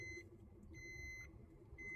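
A seat belt warning chime beeps inside a Maruti Dzire car, two evenly spaced pulsing tones, each lasting about half a second, over a low steady engine and cabin rumble.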